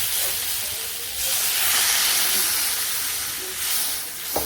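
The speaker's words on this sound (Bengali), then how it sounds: "সবজি ভালো করে ভাজি করে নিচ্ছি এখন ভেজে দিই" Vegetables fry in a pan for a home-cooked village fish curry, a steady, close sizzling hiss that swells and eases slightly with a small clink near the end.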